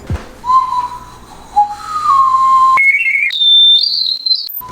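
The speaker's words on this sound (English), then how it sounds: "This is a whistle from Oaxaca." A shrill whistle from Oaxaca blown several times, its pitch wavering and then jumping higher in steady held tones, loud and close.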